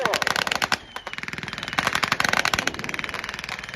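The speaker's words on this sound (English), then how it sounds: "Some of the weapons you hear out there on the Axis side is the high firing rate of the MG-34, the Maschinengewehr 34." An MG-34 machine gun fires rapid bursts at a WWII reenactment, its dense stream of sharp reports coming fast and loud with brief gaps between bursts.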